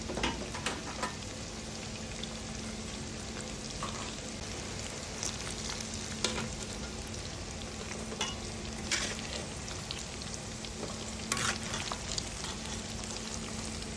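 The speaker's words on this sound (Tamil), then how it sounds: "ரொம்ப கிராஸாக பொரிக்கக்கூடாது, லைட்டாக பொரிச்சு எடுத்துக்கோங்க" Chicken pieces frying in hot oil give a steady, dense sizzle throughout, with small pops and crackles scattered across the bubbling and no talking.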